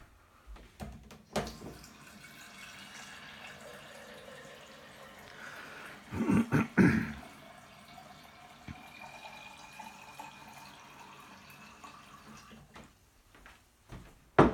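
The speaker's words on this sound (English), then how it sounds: "fill this jar up to about here with fresh water" A faint trickle of tap water filling a jar plays under quiet room noise, rising into a brief louder gush and splash midway before settling again.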